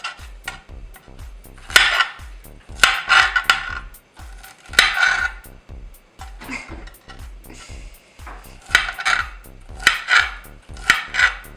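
Knife chopping jalapeños on a loud cooking board, sharp knocking cuts in quick irregular bursts with brief pauses, close and clear without talking.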